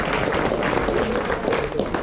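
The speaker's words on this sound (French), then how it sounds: "Déborah Battal, on peut l'applaudir." An audience applauds a circus, pole-dance and singing performer at a stage show, a steady, dense wash of clapping with no voices over it.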